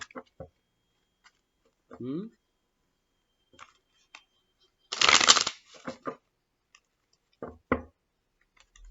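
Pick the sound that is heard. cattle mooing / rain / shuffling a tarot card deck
shuffling a tarot card deck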